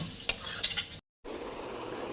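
Okra being lightly mixed in a pan for bhindi do pyaza, with a few scraping stirs and a steady soft sizzle, a brief silent gap, then quieter frying noise.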